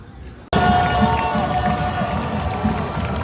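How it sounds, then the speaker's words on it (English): A huge football stadium crowd roars into cheering after a sudden cut-in, a loud, sustained wall of voices and shouts that stays dense and full to the end. "it is a cracking atmosphere, a huge crowd"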